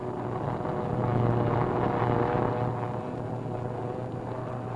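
A 1942 Doolittle Raid bomber takes off from a rolling, pitching aircraft carrier deck at dawn, a steady loud engine drone with wind rush that swells briefly then holds, no voices.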